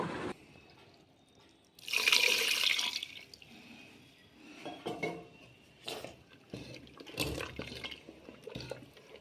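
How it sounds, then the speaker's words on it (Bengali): Water poured onto drumstick greens and cooked lentils in a pot, then a bright splashing, scraping mash of the greens and lentils with clinks of utensil against metal, in short bursts with no talk. "এবার এখানে পরিমাণ মতো জল দিয়ে শাক ও ডাল একসাথে ঘুটে নেব।"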